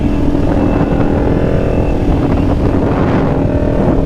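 A motorcycle engine drones steadily and loudly while the bike is ridden, a constant close rumble with wind rush and slight pitch shifts as the throttle changes, with no talking.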